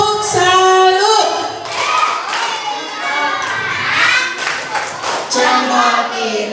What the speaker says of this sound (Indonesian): Semuanya coba tepuk salut.